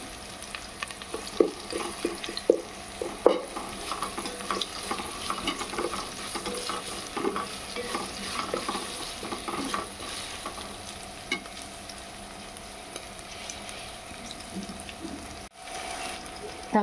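Ginger garlic paste fries and is stirred in a pan while cooking khichdi, a close continuous sizzle with scraping and clattering stirring strokes, brief water-like splashes and a short gap near the end.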